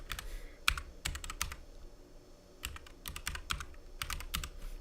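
Quick bursts of keystrokes on a computer keyboard as a server address is typed, crisp close clicks in several short runs separated by brief pauses, no voices.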